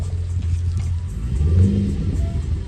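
A Pontiac car's engine revs in a deep, loud rumble that swells and rises midway, then settles back, with no talking.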